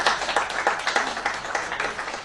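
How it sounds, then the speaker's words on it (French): Applause for a speaker being introduced at a gathering: a steady stretch of many hands clapping in a room, fairly loud and continuous throughout. "Les applaudissements."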